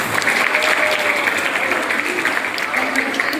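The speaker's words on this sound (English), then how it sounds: "Let us give her a big round of applause." An audience at a school graduation ceremony claps in loud, steady applause throughout, a dense patter of many hands with no break.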